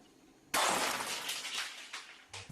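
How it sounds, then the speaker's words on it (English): Glass breaking in a kitchen: a single sudden, loud crash that bursts in, then trails off into scattered tinkling shards, with a brief second clink near the end. "it proceeded to break a glass"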